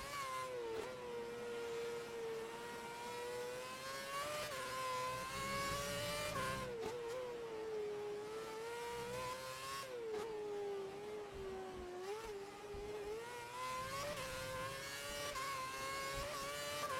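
Race cars scream past at speed in a racing video game, with high engine whines rising and falling through gear shifts, loud and continuous with no talk.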